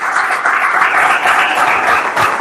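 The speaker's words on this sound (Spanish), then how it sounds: "Denle un aplauso al Señor por eso." A church congregation applauds loudly and continuously in worship, a dense, close wash of clapping with no speech over it.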